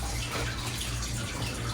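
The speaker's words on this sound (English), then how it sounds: "So we're gonna water this humongous lemon amaranta." Water is poured onto a large, dry indoor houseplant, heard as a steady, close, continuous splashing stream with no pauses.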